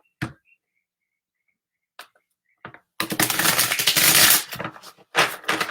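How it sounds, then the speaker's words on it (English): Playing cards are shuffled close up, a few isolated crisp flicks followed by a dense riffling burst of papery snapping, then short bursts again, with no talking. "You can't see me, but I am shuffling cards."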